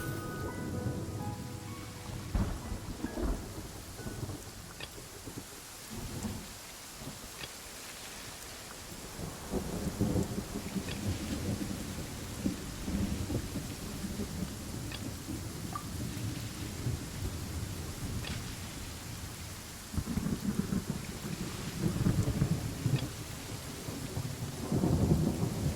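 A heavy rain downpour hisses continuously while deep thunder rumbles swell and roll through repeatedly, loud and enveloping, with no voices.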